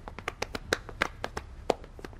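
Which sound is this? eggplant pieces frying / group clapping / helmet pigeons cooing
group clapping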